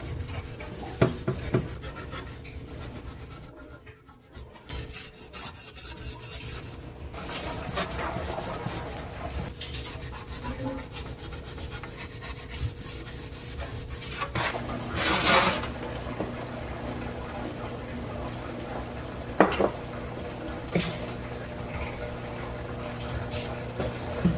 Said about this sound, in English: I'll just give it a quick scuff here with my used piece of red Scotch-Brite.